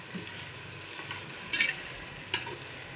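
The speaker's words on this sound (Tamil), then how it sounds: "இப்போ கிண்டிக்கோங்க." Chicken biryani ingredients frying in a pressure cooker and being stirred, with a steady soft sizzle and two brief scraping clinks of the spoon against the pot, no one talking.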